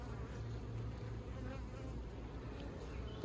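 Honey bees buzzing steadily around an open hive during an inspection, a dense, continuous drone of many wings close by without pause.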